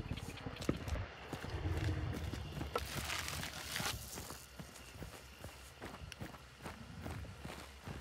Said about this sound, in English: I thought I heard the footsteps for a moment.